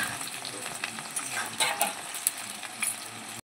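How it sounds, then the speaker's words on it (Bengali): Garlic and chopped ginger fry lightly in oil in a rustic home kitchen while khichuri is being made, giving a steady soft crackling sizzle with a few brighter pops and clinks near the pan. "দিয়ে দিচ্ছি রসুন, আদা কুচি, হালকা করে তেলে একটু ভেজে নেব।"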